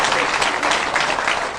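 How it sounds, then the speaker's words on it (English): A studio audience at a game show claps loudly for a contestant, dense continuous applause with a little voice mixed underneath. "How about a big round of applause for Kristina Lamb?"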